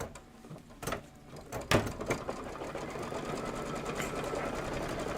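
Sewing machine stitching a placement stitch on a Kimberbell table topper, a few clunks and knocks giving way to a steady, close mechanical whir of stitching.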